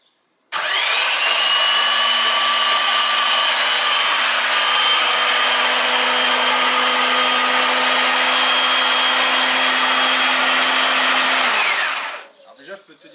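VR6 24V engine cranked over on the starter for its first rotation without starting: a loud, close, steady whirring drone that runs for about eleven seconds and then winds down.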